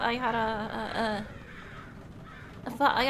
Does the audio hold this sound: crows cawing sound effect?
yes